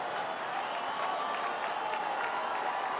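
A baseball stadium crowd of more than 35,000 cheers and applauds after a big hit, a dense, steady roar of clapping and shouting heard from a distance, with no voice standing out.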